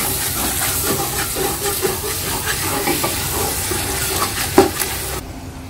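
Beef sizzles and fries in a pot for a lentil curry while being stirred, a steady crackling hiss with scattered scraping clicks and one sharper knock near the end before the sound drops away.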